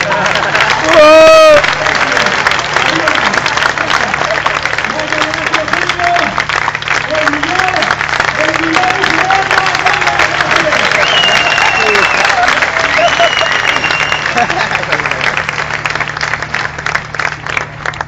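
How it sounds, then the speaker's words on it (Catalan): An audience claps steadily at a live stage show, dense sustained applause with some cheering, loud and continuous throughout with a brief squeal near the start and voices in the crowd. "Un aplaudiment per a ella."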